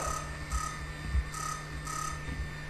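An RF Privacy Protector Pro signal detector sounds its audio alert for a detected signal: a run of four evenly spaced electronic chirping bursts over a steady low hum, close and clean.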